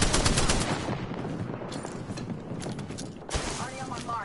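Rapid bursts of gunfire from a military shooter video game crackle in quick repeated volleys, fairly loud, with game voices talking intermittently over the shots.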